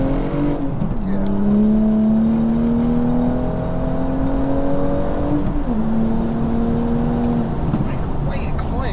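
A 500 bhp wide-body BMW M235i pulls hard in Sport Plus mode, its engine note climbing steadily through the revs with a brief dip at a gear change, loud and close, under people talking.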